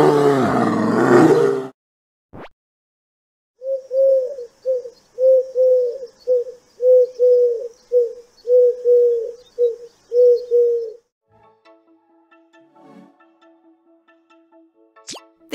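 A pigeon coos in a run of about nine soft, rounded calls in steady rhythm, close and clear against silence, followed by faint distant bird sounds.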